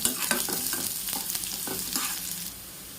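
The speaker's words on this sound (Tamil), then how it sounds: "நல்லா வதக்கிக்கோங்க ஒரு அஞ்சு நிமிஷம் இந்த வெங்காயம் நல்லா வதங்கட்டும்" Onions sautéing in a pan for nukal poriyal, stirred with repeated scraping strokes over a constant sizzle, close and fairly loud, fading slightly at the end with no speech.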